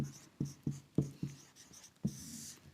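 A pen writes numbers by hand during a worked math problem, making a close, quiet series of short scratchy strokes and taps in an irregular rhythm, with a longer scrawl at the end and no talking.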